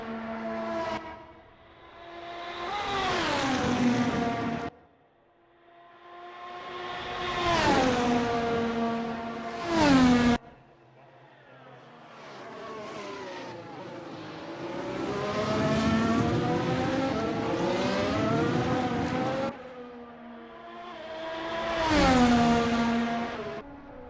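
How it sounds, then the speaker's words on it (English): VRC race cars roar past the start-finish line at the Pinwheel GP, about five loud, high-revving engine pass-bys in succession, each rising and then dropping in pitch as it goes by, with no talk. "Love the way that these VRC cars sound. Just wanted to hear them come by the start-finish line for the penultimate time."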